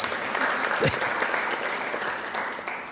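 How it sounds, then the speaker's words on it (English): An audience at a civics bee competition applauds in a steady, even burst of clapping that gradually tapers slightly toward the end. "let's give them a round of applause"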